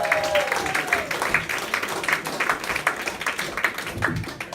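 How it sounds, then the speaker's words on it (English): A comedy-club audience at Yuk Yuk's in Ottawa claps for the next comedian, giving a dense, steady round of applause with a few whoops mixed in. "Please put your hands together for your next act"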